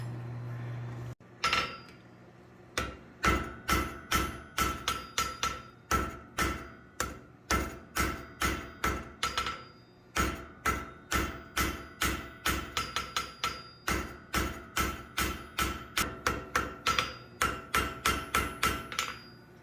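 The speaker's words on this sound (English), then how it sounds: "We'll stretch this butt out over on the anvil." A blacksmith hammers hot metal on an anvil while forging a one-piece butterfly, giving a long steady run of loud ringing strikes, close and evenly spaced, with no talk.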